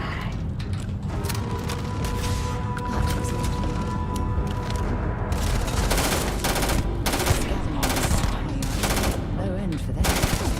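Gunfire in Starfield, with rapid automatic bursts crackling over a busy battle din, growing denser and louder in the second half as repeated volleys of sharp shots ring out, while a voice briefly speaks beneath.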